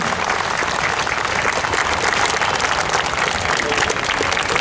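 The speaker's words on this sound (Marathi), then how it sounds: "लोकांनी टाळ्या वाजवल्या पाहिजे" Applause from the audience at a school association event in Nagpur, thick and continuous, loud and even from start to end with no voices standing out.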